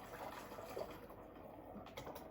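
Water poured into the tank of a Breville Oracle espresso machine, a faint, continuous splashing trickle heard alone at low volume.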